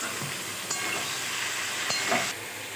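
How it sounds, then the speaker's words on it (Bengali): Vegetables sizzling in a pan with salt and turmeric for a Bengali puishak (Malabar spinach) dish, a steady close frying hiss with a few brief stirring clatters. "এবার আমি ভেজে নেবো সবজিটা"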